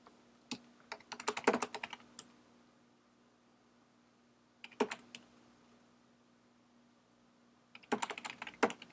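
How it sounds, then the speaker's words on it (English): Bursts of rapid keyboard typing come in three clusters separated by quiet pauses, with crisp close key clicks over a faint steady background hum. "Maybe he's typing."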